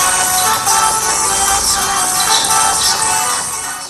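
Infinix Hot 60 Pro smartphone stereo speakers playing audio, a loud, dense, steady stream of sound that fills the whole clip without pause and tapers only slightly at the end.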